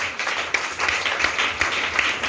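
Church congregation clapping together during a French-language service, a dense, sustained burst of applause with irregular hand-clap peaks throughout.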